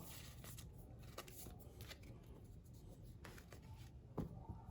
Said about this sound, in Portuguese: Vou embaralhar esse aqui também, só para ilustrar.